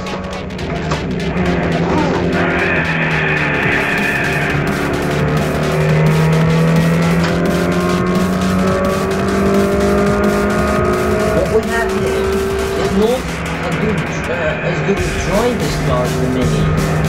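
A hatchback taken briskly through corners on a test drive, its engine droning loudly and steadily, pitch rising and falling with the speed, with some tyre noise and someone talking over it.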